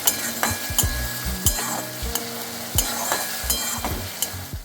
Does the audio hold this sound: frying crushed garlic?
yes